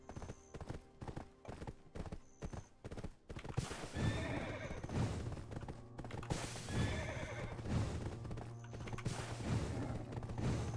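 Horse in the online role-playing game Black Desert Online, with steady clip-clop hoofbeats throughout and several loud neighs and whinnies over a constant low mechanical drone.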